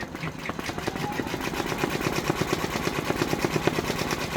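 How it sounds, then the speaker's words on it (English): An embroidery sewing machine stitches a Christmas flight tiling scene design, its needle hammering in a fast, steady rhythm of sharp repeated clicks that continue close and even throughout. "that is just going to be 1 minute of stitching"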